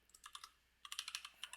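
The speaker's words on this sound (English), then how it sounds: "I'm just going to type" Quiet, close typing on a computer keyboard: a short burst of key clicks, a brief pause, then a second quicker run of crisp taps.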